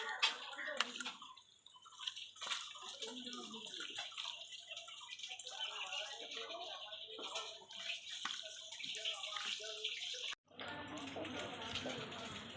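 Mourala fish being mixed by hand with oil and spices: a continuous wet squelching and squishing runs steadily throughout, close up, with a brief break near the end before it resumes.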